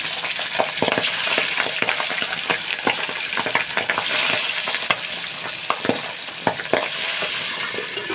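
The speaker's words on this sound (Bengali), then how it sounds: "পাবদা মাছটা ভেজে নিচ্ছি" Steady, loud sizzling of pabda fish frying in hot oil, with sharp spattering pops scattered throughout, close up and continuous.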